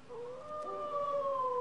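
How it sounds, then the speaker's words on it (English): The howling dog sound effect from Disney's Haunted Mansion attraction, a single long, mournful howl that starts low, rises and holds, then slowly falls away. It is heard alone and fairly loud. "And, of course, one that everyone will recognize, the howling dog."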